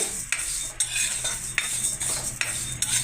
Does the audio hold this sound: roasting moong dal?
yes